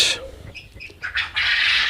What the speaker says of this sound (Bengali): এগুলা তিথি মুরগির বয়স দুই মাস